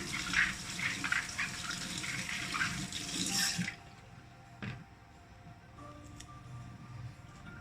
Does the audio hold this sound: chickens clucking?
no